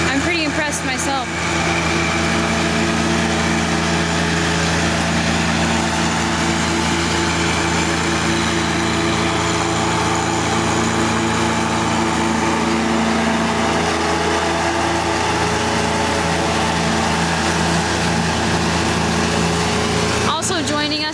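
A John Deere 1025R compact tractor with a mulch kit mows and mulches leaves, and its engine and mower deck give a continuous, even drone that stays steady for the whole stretch.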